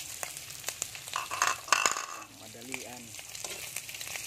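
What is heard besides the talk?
garlic and onion frying in hot oil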